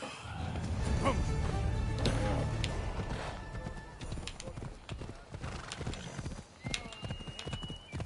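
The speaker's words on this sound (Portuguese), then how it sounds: "Agora tô com o cavalo." Rapid clip-clop of horse hooves galloping in Assassin's Creed Odyssey, loud and close, with a brief whinny; a voice talks over the hoofbeats at times.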